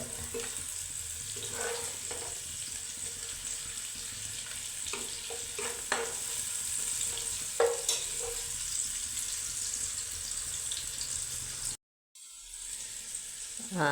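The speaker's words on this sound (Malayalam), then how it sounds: "വറുത്ത് ചുമക്കുമ്പോൾ നമുക്കതങ്ങ് കോരിയെടുക്കാം. കുറച്ച് നെയ്യൂടെ അങ്ങ് ചേർത്തേക്കാം" Sliced onions frying in ghee for fish biryani make a steady, close sizzle with occasional stirring scrapes, briefly dropping out near the end before resuming.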